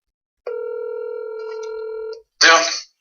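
A telephone call being placed, with a steady multi-pitch dialing tone held for nearly two seconds, then a short burst of harsher connection noise right after; no talking.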